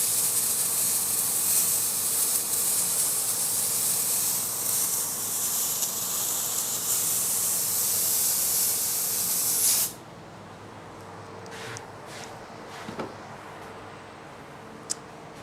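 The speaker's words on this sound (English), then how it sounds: "if you aren't using compressed air to clean out your engraves, you're missing out" Compressed air blasts ash out of a laser-engraved recess in wood as a loud, close, steady hiss for about ten seconds. It stops sharply, leaving quiet room sound with a few faint clicks.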